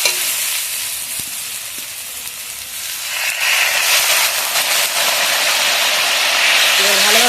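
Spice paste for a black carp curry sizzles and hisses steadily in hot oil while being stirred, the frying growing louder toward the end, with a voice faintly underneath.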